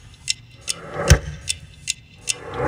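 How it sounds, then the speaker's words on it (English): A ticking clock gives a steady run of sharp, even clicks about every 0.4 seconds, close and clear against a faint low hum, with one heavier thud partway through. "this ticking clock clicking sound that's happening here, which sounds like this."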